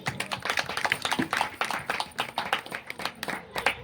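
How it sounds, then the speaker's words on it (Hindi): A crowd claps throughout at a devotional Hindi religious discourse, a dense, steady patter of many hands that stays fairly even and moderately loud without any talk over it. "ताली।"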